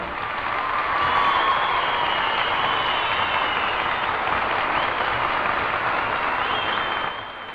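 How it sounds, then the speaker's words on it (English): A concert audience breaks into wild, sustained applause after a swing number, a dense, loud wash of clapping that holds steady for several seconds before easing off at the end. "Wild applause, it has to be said, for boys and girls at ENSA"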